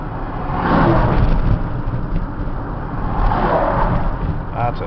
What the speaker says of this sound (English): Lots of truck traffic back here.